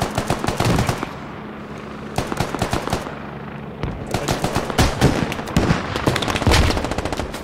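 Rapid automatic gunfire from a squad shooter video game, bursts of loud, close shots in dense volleys with brief pauses between, several weapons overlapping at times.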